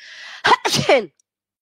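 One strong, close sneeze, a short breathy intake followed by two explosive bursts, then silence.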